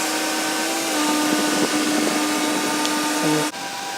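A boat travel lift hoists a 94-foot Lazzara yacht evenly on all sides, giving a loud, steady mechanical hum and whine that holds throughout, then drops off abruptly near the end.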